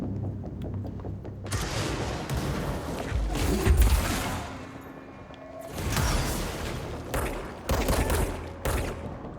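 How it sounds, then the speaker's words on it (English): Loud bursts of gunfire fired as warning shots in the video game Control, several dense volleys across the stretch with brief lulls between them, no talking. "Those are warning shots."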